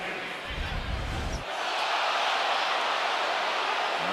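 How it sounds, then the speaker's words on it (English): A basketball arena crowd at a Duke versus Texas Tech game erupts in a loud, sustained roar of reaction to a play, rising after a brief lower rumble and holding steady. "You just heard the crowd reaction."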